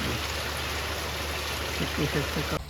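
Steady rain hisses throughout, a dense even wash of falling water, with a brief voice murmuring near the end.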